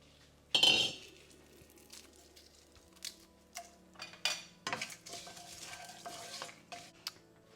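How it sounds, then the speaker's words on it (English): Curry leaves and a dried red chili go into lentils frying in a pan, giving one sharp burst of crackling sizzle followed by quieter scraping and clinking stirring against the pan. "I'm going to add a few curry leaves and a big dried red chili."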